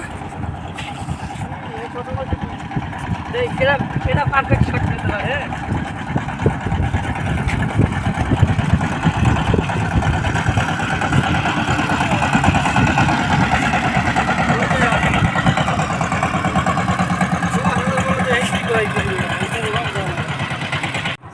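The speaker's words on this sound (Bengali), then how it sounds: "একটি ট্রলার আসছে" A river trawler on the Sandhya river at Gala, Barisal approaches a terminal with a steady chugging engine drone that holds throughout, while people talk nearby.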